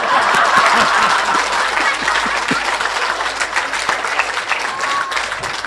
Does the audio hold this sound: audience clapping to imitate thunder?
yes